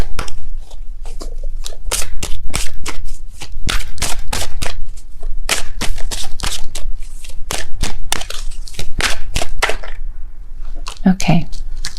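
Tarot cards being shuffled in a love-reading session, a rapid series of sharp, crisp card slaps and riffles, close and loud, repeating irregularly throughout with no talking over them.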